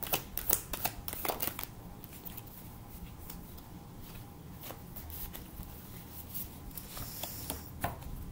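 Tarot cards shuffled and drawn at close range, a quick burst of riffling clicks at the start, then scattered soft card snaps and flicks over quiet room tone.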